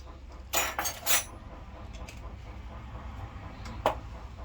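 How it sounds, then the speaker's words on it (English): Stirring a pot of Trinidadian sugar cake mixture: a brief cluster of spoon clinks against the pan, then a lone later tap, faint over a low steady background hum. "you gotta keep stirring this pot until it starts to leave"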